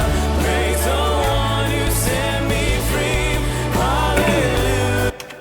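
A full broadcast music mix with a touch of added reverb plays steadily and loud, with a sustained bass line and layered harmonic instruments, cutting off abruptly near the end.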